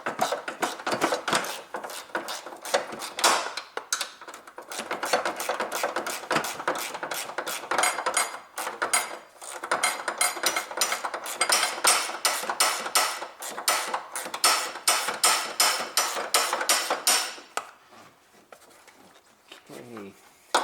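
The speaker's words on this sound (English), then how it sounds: "in here I can use this spanner tool" A spanner ratchet works an engine mount bolt on a Honda Civic 1.8 R18A1, making a long run of rapid, close metallic clicks in bursts, with a person talking intermittently.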